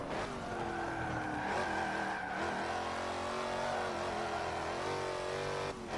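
Dodge Charger SRT-8 lapping a race track in a video game, its engine droning steadily with shifting revs and tire squeal through corners, constant and unbroken.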